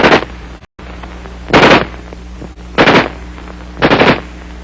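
Bursts of automatic fire from an XM16E1 assault rifle: four loud, close rapid-fire bursts spaced about a second apart, with a steady low background rumble between them.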